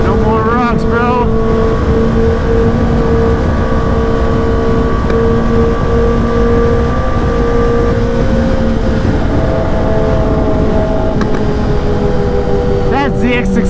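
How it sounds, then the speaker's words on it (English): A Kawasaki ZX10R sportbike engine drones steadily and loudly on a morning canyon ride among other motorcycles, its tone holding and shifting slightly under heavy wind rush. "That ZX10R sounds so stinking good."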